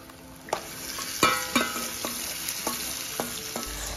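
Onions and local chicken fry in a pan, a steady sizzle broken by several sharp clacks and scrapes of a spoon stirring against the metal, close and clear with no talking.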